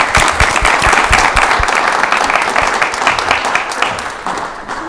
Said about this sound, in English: All right, another round of applause for Michael.